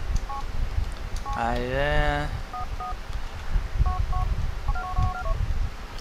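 Telephone dialing tones from the video game GTA IV: short paired keypad beeps, then a longer warbling ring tone, then more scattered dial beeps, all over a steady game background rumble, with a brief spoken word.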